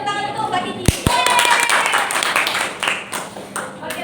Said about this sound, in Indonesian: Beri tepuk tangan untuk Mbak Kiki.